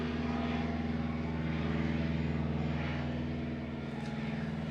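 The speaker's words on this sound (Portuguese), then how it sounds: "Desculpa o barulho, gente, do avião passando." An airplane passes overhead as a steady, droning engine hum with a propeller-like buzz, holding at an even moderate level throughout before easing slightly toward the end, with no voices.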